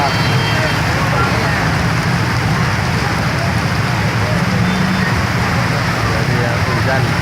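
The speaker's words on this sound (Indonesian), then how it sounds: "hujannya deras sekali" Heavy rain pours steadily in a loud, continuous hiss with no letup, drumming hard on surfaces close by, during a traffic jam.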